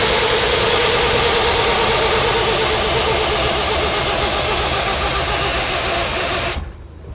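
A Mack B61 truck's diesel engine idles with a loud, close, steady rumble and a rough, rhythmic churn throughout, then stops abruptly just before the end.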